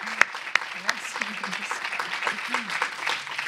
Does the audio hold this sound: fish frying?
no